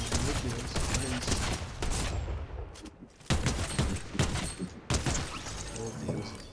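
Dense bursts of rapid gunfire in Fortnite crackle loudly and continuously, with brief pauses between volleys and a few sharp single shots.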